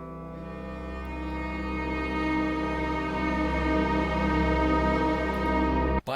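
A sustained, airy cello harmonic tone from a sample library holds steady for several seconds with a glassy, rich overtone texture, then cuts off abruptly.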